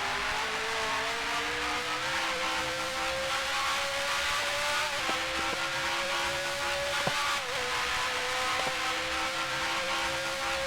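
Formula One works car engine from a Zandvoort racing sim howls steadily at high revs for the whole stretch, pitch climbing slowly with a few sharp dips at gear shifts, loud and close with no talk.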